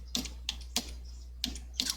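Five or six separate taps on a computer keyboard, close and crisp, spaced irregularly over a low steady hum.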